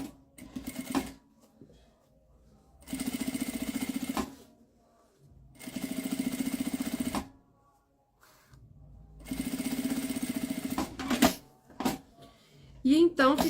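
Sewing machine stitching a half-foot topstitch along a pouch seam, three close bursts of fast, even whirring separated by pauses, with someone speaking in between.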